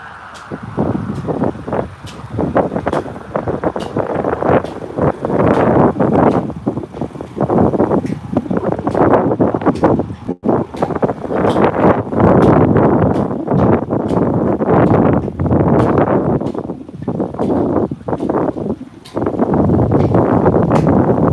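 Strong, gusty wind ahead of a storm gust front shakes a flagpole, giving loud roaring buffets with sharp rattling knocks and clanks scattered throughout.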